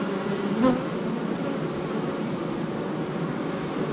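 Honeybees fan their wings at the hive entrance to call the colony home during end-of-season apiary work, a dense continuous buzzing hum from many bees close by, with one brief louder swell early on.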